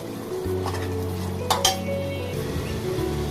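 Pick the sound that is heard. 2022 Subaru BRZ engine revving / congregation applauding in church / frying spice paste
frying spice paste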